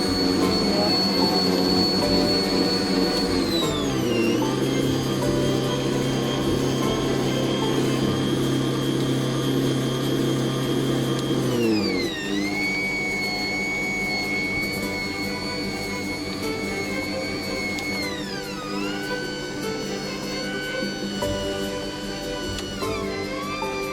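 An electric stand mixer whipping meringue for macarons whirs with a loud, steady motor whine that drops in pitch in distinct steps as the speed is lowered three times, staying continuous and close.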